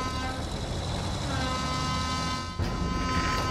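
A vehicle horn honks in Battlefield 1, a sustained, steady toot held for several seconds with a brief break, set against game noise and engine rumble.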